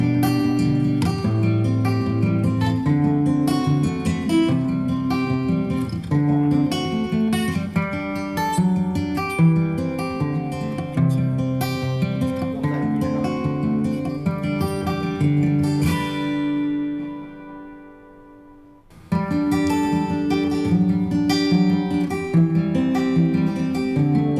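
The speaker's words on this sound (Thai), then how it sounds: "ใส่เอฟเฟกต์คาราโอเกะเข้าไปนะครับ" Music plays through a Soundcraft Notepad-8FX mixer with an echoey, reverb-heavy karaoke effect on it, cutting to near silence for a few seconds before resuming loud and full.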